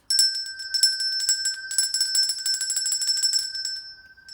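A small bell rings rapidly and continuously, a bright metallic jingle close by, fading out near the end.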